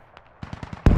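A BTR armored vehicle fires in the military shooter game Squad. A few quick, faint shots are followed by a rapid burst of four or five bangs, then a loud, sharp blast at the end.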